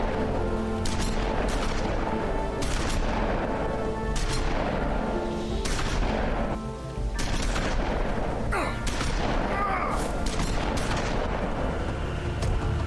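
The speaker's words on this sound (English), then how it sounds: "They're using pump action shotguns." Pump-action shotguns fire repeatedly in The Wolf Among Us, a dozen or so loud booming blasts at irregular intervals over a constant rumbling background, with a brief lull partway through.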